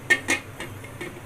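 A metal kadai being handled in a home kitchen, giving two sharp clanks followed by softer knocks and a faint clink.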